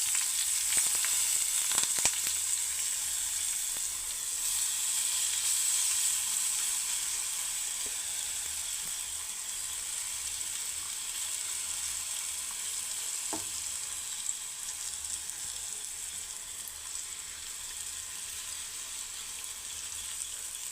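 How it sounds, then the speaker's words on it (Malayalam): Anchovies frying in a pan with curry leaves, a long steady sizzle that stays fairly even throughout, with a few faint pops and clicks near the start and no talking. "കറിവേപ്പിലയും കൂടെ ഇട്ട് കൊടുക്കാം ഇനി നെത്തോലി നമുക്ക് നിരത്തി കൊടുക്കാം"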